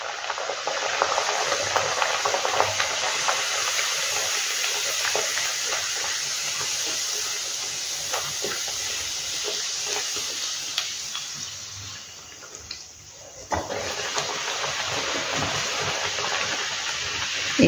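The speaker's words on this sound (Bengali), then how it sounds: "এবার আমি তেলের মধ্যে এটাকে ছেড়ে দেব। প্রথমে তেলটাকে ভালো গরম করে নিতে হবে।" Green pea kachori frying in hot oil, a steady loud sizzle and hiss running throughout with small crackles, dipping briefly before surging back.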